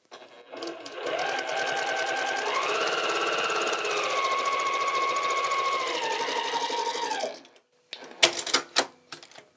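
Sewing machine stitching quilt pieces with neutral thread at a stitch length of about two, running as a steady, close whir for roughly seven seconds before stopping, then a few sharp handling clicks and knocks.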